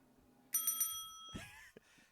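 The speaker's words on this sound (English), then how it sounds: "I've been waiting for that bell to ring." A bell rings with a few quick metallic strikes, clear and bright, then a ringing tail under some background noise.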